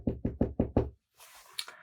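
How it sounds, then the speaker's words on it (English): Five sharp, evenly spaced knocks land close by on an inn door in a nativity story, followed by a short pause and then a soft rustling shuffle. "And so they knocked at the last inn."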